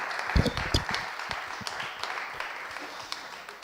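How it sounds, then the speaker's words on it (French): Audience applause greeting a speaker at a conference session, scattered clapping that starts with a few close loud claps and thins into lighter, more distant clapping, with faint voices underneath. "Je vous demande de l'applaudir très fort, comme dans les grands spectacles."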